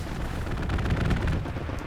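Dense, continuous gunfire and explosions from the World War II shooter game Hell Let Loose, a rumbling wash of rapid shots and blasts with no talk.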